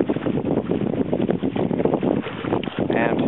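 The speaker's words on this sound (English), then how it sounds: "Because it's very windy, as you might be able to hear." Strong wind buffets a rocky shoreline beside an outcropping where a small boat is tied to a tree, a steady, loud roar with gusting surges throughout.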